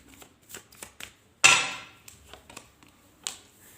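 Tarot cards being shuffled by hand, a series of soft quick riffles and taps with one louder sharp riffle near the middle, close and otherwise quiet.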